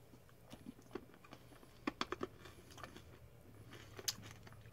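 Chewy Mexican fruit powder candy being chewed close up, a few soft, sticky bites and moist smacks, quiet and sparse, with no talking.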